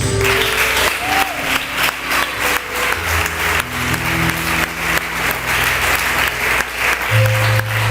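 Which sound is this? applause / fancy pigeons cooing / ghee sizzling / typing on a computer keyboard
applause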